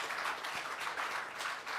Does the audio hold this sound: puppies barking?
no